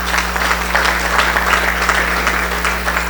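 Audience applause at a Rotary Club meeting in Cincinnati for Legacy Circle members: dense, steady clapping from a roomful of people, loud and continuous throughout, with a low hum underneath.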